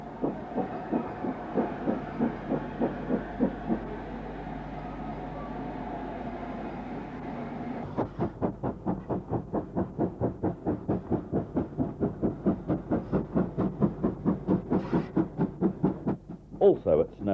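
A steam tank locomotive, a 0-6-2 tank engine numbered 6683, running on rails at Snow Hill, with a fast rhythmic chuffing exhaust beat that quickens and sharpens midway, close and loud.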